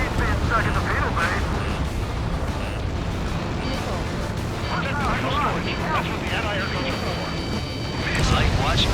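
Targets blow up in the Ace Combat 7 pipeline destruction mission, a dense, continuous wash of booming blasts and gunfire-like cracks that swells near the end, with voices heard over the din.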